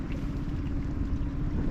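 A small fishing boat's outboard engine runs steadily at low speed while nosing slowly into a calm inlet, a continuous low drone with wind buffeting the microphone and no voices.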